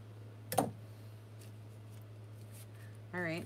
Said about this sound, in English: There's a big knot right here. I'm just going to cut it off.